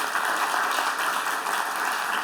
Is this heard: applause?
yes